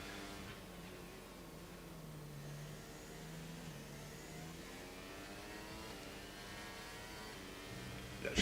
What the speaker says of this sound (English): I love the engine sounds of these cars